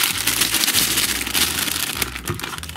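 A paper gift bag shaped like a bunny is gathered at the top and its back edge folded down several times. Close, loud paper crinkling and crumpling comes in uneven bursts with no voice over it.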